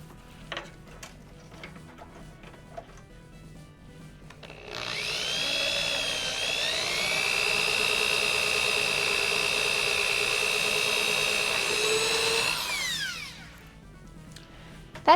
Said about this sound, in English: prior to drilling, let's make sure we're not drilling through wires